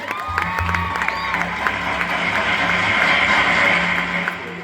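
A church audience at a Christmas program claps and cheers, a steady wash of hands with children's shouts and excited voices throughout.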